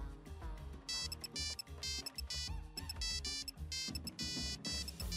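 A ringtone plays as a bright, bouncy electronic melody with punchy beats and repeated high synth stabs, fairly clear and alone without talk.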